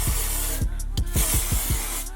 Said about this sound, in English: I'm gonna use the spray like how I normally use the Got2b spray.